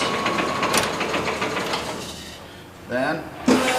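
LeBlond Regal 15 by 54 inch servo shift engine lathe running in reverse, a clattering ratchet-like mechanical whir with gear noise, then a louder clunk and shift near the end, with a voice speaking.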